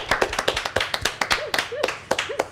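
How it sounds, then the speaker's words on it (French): A small group applauds at a live student cooking show, a brisk run of sharp, close claps that stays loud and steady throughout. "Je pense qu'on peut l'applaudir."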